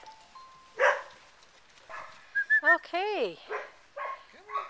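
Six-week-old puppies yelp, bark and whimper in high, wavering bursts, several cries overlapping close by, while a person talks briefly.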